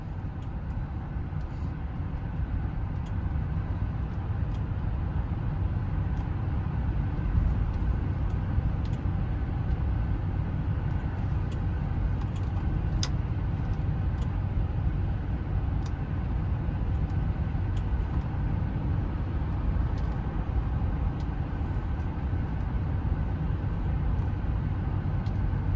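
A 2007 Lincoln Town Car Signature Limited cruises at night, a steady low engine and road hum with tire rumble, heard from inside the cabin and continuing evenly throughout without speech.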